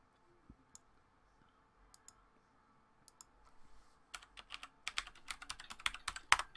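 Typing on a computer keyboard: sparse isolated key clicks at first, then a rapid, louder burst of clattering keystrokes toward the end, close by with no talking.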